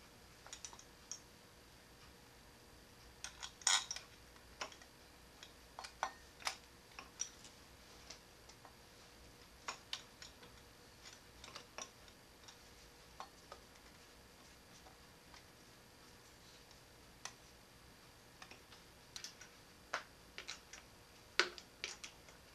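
Faint, sparse clicks of a ratchet or hand tool starting the water pump bolts on a rally car in a garage, irregular single ticks scattered over a quiet background with no talk.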